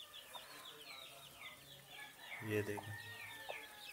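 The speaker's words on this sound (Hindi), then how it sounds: "ये वाली मुर्गी है, इसने चूजे निकाले हुए हैं।" An Aseel hen with newly hatched chicks clucks in short bursts amid chirping chicks, with a person speaking briefly over the farmyard sounds.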